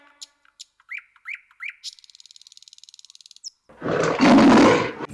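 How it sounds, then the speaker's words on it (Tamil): A lion in a children's animated story about the lion and the mouse lets out a loud, rough roar after a stretch of chirping birds and a rapid trill. "மறுபடியும் சிங்கத்தின் கர்ஜனை கேட்டது"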